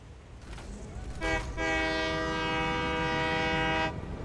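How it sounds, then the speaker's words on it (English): Train ride in the video game Satisfactory: a steady rumble of rail travel, then a long, loud sustained horn blast over the running rails, with a faint voice in the background. "let's take a train ride."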